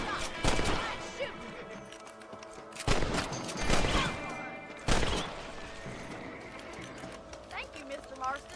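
Rifle shots in Red Dead Redemption while hunting rabbits, three or four sharp, loud reports spaced a couple of seconds apart, with talking and ambient outdoor sounds between them.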